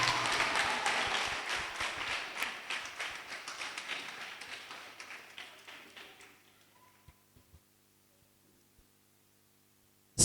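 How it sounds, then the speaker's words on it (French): Classroom applause for a girl during a French spelling and speaking contest between two classes, a dense burst of many hands clapping that thins out and fades to near silence after about six seconds. "applaudissez pour la fille"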